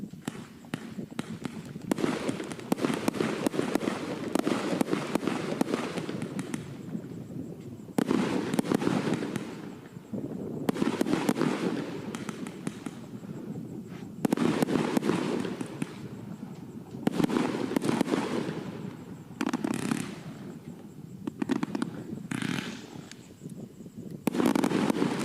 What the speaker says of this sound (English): That was Titan of the Ocean by Karaticus Pots Fireworks.